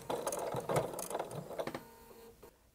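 A sewing machine stitches denim in a few short, uneven bursts of mechanical clatter, close and fairly quiet, before slowing to a stop.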